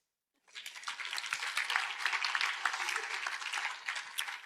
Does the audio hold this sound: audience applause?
yes